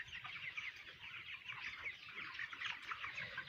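Chickens on a large poultry farm, a dense continuous chorus of clucking and chattering from many birds, steady and moderately distant.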